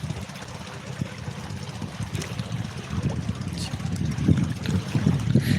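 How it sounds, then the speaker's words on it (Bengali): Wind and river water mix into a steady, rushing outdoor wash. A low rumble builds slightly toward the end, and nobody speaks over it. "এখানে এই যে হাওয়ার শব্দ আর জলের শব্দ হচ্ছে"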